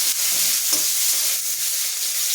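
Whole spices for phoron crackling in hot oil, a steady bright sizzle and hiss that holds close and loud throughout with no voices.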